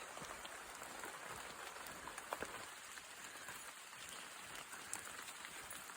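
Steady rain falls on a forest trail on Kahakapao, a dense, even hiss of drops on leaves and ground with occasional closer taps, continuous throughout without speech.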